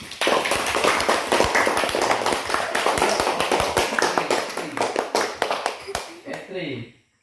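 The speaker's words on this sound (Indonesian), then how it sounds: "Oke, sudah, tepuk tangan dulu" Fourth-grade classroom pupils clapping hands together, rapid sharp claps repeated in a loud burst that fades out near the end, with some voices over them.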